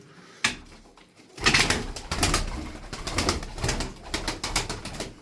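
Tumbler pigeons cooing and fluttering nearby, soft repeated calls amid rustling and clattering movement, fairly close, no talking.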